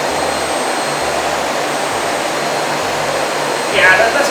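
A Miele Complete C3 vacuum cleaner runs at maximum power, a loud, steady roaring whoosh with a low pulsing undertone that swells briefly at the end.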